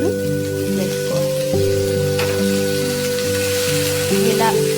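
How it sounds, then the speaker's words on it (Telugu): Tomato pieces fry in a pan for a misal, a continuous close sizzle and crackle under a steady droning tone that runs throughout. "ఇలా వీటిని 2 మినిట్స్ ఫ్రై చేసుకోవాలి"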